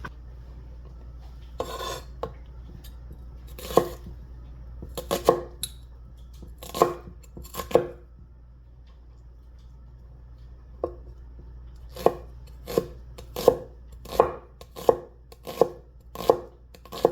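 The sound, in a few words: knife mincing a shallot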